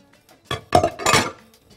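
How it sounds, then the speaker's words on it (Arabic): Duck rice seasoned with salt and black pepper being stirred in a pot, a few loud close clinks and scrapes of a utensil against the metal in quick bursts, with no voices. "ملح وفلفل اسود، نقلب كويس قوي"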